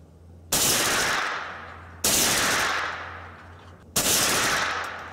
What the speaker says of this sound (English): Try another shot.